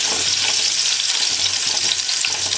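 Onions frying in oil in a pan for a taro leaf curry, a loud, dense, continuous sizzle with faint stirring, close up and no talk.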